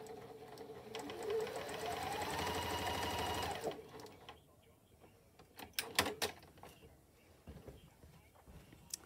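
Sewing machine top stitching a fabric face mask, a steady close whirring run of rapid stitches for several seconds that stops abruptly, followed by scattered handling clicks and knocks.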